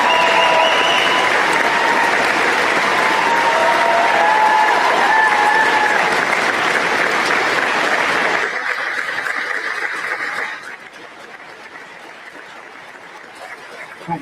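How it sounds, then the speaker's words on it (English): Live show audience applauding loudly and steadily, with a few faint chuckles, before the clapping drops off sharply and fades to a quieter room. "Respectful applause, guys."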